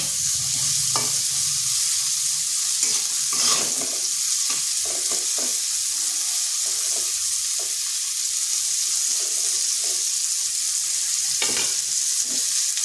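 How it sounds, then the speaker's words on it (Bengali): Thick-cut pieces of bitter gourd fry steadily in a pan over medium heat, a continuous close sizzle broken by occasional scrapes and clinks of stirring. "করলাগুলো একটু মোটা মোটা করে কেটেছি এরপর মিডিয়াম আছে ভেজে নিচ্ছি লাল লাল করে ভেজে নেব"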